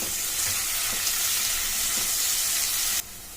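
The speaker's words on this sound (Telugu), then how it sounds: "ఇప్పుడు క్యారెట్ పెసరపప్పు అంతా కలిసేలా కలుపుకొని పెట్టుకోవాలి" Grated carrot and moong dal being stirred in a hot pan, a dense, steady hiss of frying with faint scrapes of a spoon, close and continuous before cutting off abruptly near the end.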